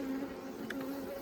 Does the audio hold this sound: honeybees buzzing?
yes